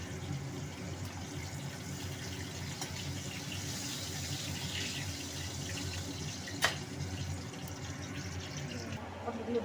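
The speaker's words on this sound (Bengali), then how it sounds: "পনিরগুলো ভেজে নেবো এই তেলের মধ্যে" Paneer cubes frying in hot oil for a spiced dish, giving a steady broadband sizzle and crackle that runs continuously throughout, fairly close and without talk.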